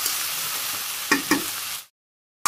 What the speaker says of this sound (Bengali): মাছ দিয়ে দিলাম, মাছের সাথে বেশিক্ষণ লাগবে না, রান্না হয়ে যাবে।